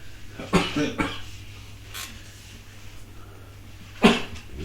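Two quick coughs close by, followed after a quiet pause by a third, sharper cough, with faint room noise in between.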